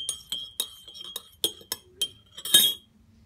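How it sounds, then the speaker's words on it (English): A small spoon clinks against a teacup as tea is stirred, giving about eight bright, ringing taps in an uneven rhythm, close up, ending in a slightly longer scraping clink. "You want to stir it round."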